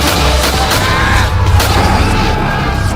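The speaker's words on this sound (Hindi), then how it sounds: "गोलियां चलाते रहो जब तक कि गोलियां खत्म ना हो जाए।" Dense, continuous booming gunfire effect used in a dramatized telling of the Jallianwala Bagh massacre, loud and rumbling with rapid overlapping shots filling the whole stretch.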